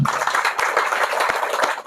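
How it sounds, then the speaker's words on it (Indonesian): An audience applauds in a dense, steady burst of many hands clapping together, loud and continuous throughout, with no talking over it. "Tepuk tangan dulu."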